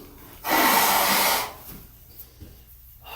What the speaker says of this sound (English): Blow my nose with this one because I only blew the one nostril.